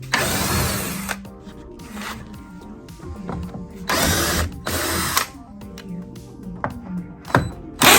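Torx-bit driver backing screws out of the side panels of a Hyrel 3D Hydra 21 printer, with repeated loud bursts of ratcheting clicks separated by quieter gaps of handling and tool noise.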